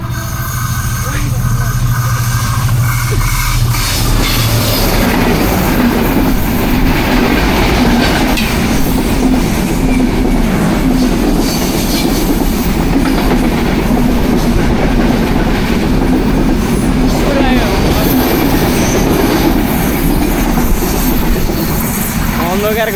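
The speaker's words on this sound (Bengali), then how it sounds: "অন্ধকার করে চলে গেছে ট্রেনে" A train rushing past at high speed, loud and close, with continuous rumbling wheels and clattering rail joints that roar steadily for the whole stretch while people talk underneath.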